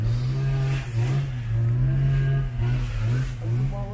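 An old Tofaş car engine with a carburettor runs and revs in a workshop, a loud, steady rumble that swells and dips slightly as the throttle is held, close by.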